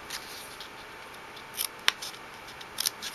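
Scissors cut paper butterfly petals from a Blossom Punch shape in a quiet room, several crisp, short snips scattered across a few seconds, with one sharper click in the middle.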